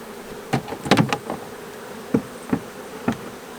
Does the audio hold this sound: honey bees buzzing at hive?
yes